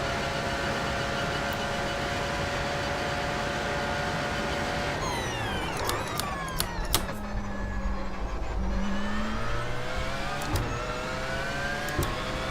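Porsche 919 LMP1 hybrid race car in the iRacing sim, its KERS energy-recovery system whining in rising and falling tones over a steady engine drone, with sweeping pitch changes as the car slows and accelerates.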